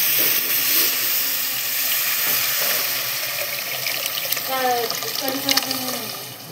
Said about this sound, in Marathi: आपण जे पाणी मिक्स केलेलं आहे ते घालून घेऊया.